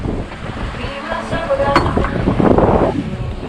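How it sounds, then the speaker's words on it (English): Cold wind blows across the microphone at sea aboard a sailboat, a close, rough, continuous rush with water sounds beneath it. "Wind is cold."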